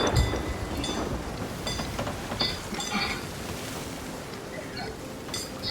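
Rain and thunder during a stormy sea voyage in the game Sea of Thieves, a steady wash of rainfall with low rumbling thunder and creaking ship sounds, moderately loud and continuous.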